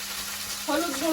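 Okra frying in oil in a kadai with dried red chillies and whole cumin seeds: a brief, steady broadband sizzle, with a voice starting to talk over it partway through.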